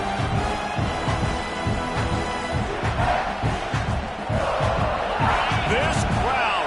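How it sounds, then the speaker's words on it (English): Stadium crowd roaring at a college football game, USC against USC, a dense continuous wash of voices holding steady throughout, with rhythmic thumps and surges of shouting. "This crowd, full throat, spreading the eardrums and letting them know it's going to be a long day"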